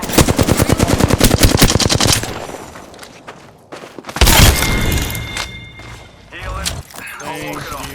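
Rapid automatic gunfire in the shooter game Apex Legends rattles loud and close, followed by impacts, shattering shield hits and further bursts, with a voice talking over the action.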